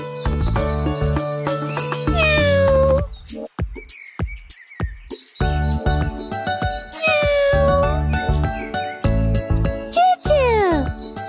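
A cartoon kitten from a children's animated story meows in several bright, rising and falling cries over a busy music score, with short pauses between the calls.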